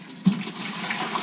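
Separated milk is poured from a heavy separator container into another vessel while making butter, a short, soft, steady liquid trickle with a light splash near the start.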